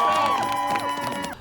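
A large crowd at an LGBT rally against hate cheers and whoops loudly in a short, close burst, with raised shouting voices that fade toward the end.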